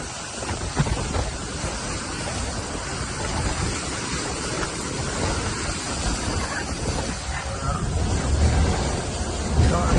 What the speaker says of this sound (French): Ouhou, ça déboule les vagues.